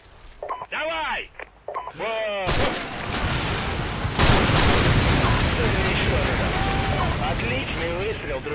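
Heavy gunfire and explosive blasts from the video game Call of Duty 4: Modern Warfare erupt after a few seconds of voices and continue as loud, dense, continuous battle noise in a village firefight.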